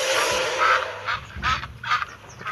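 A duck quacks in a flying robot car transform police game, giving a few loud, nasal honking calls in quick bursts over a busy background of game sounds.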